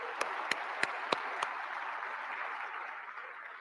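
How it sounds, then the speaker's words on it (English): An audience at an IMF and World Bank event applauds staff, a few sharp individual claps leading into a sustained wash of clapping that gradually fades. "please join me in a round of applause for our people"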